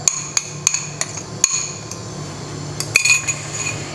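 A metal spoon clinks and taps repeatedly against a pan while leftover moong dal paste is scraped in for a dal sabzi, sharp irregular knocks close up over a low steady stovetop hum.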